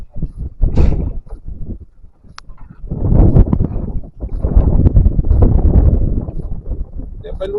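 Strong wind buffets the microphone outdoors on the water while longline hooks and fish traps are being checked, a heavy low rumble that surges and drops in gusts, with a voice talking over it.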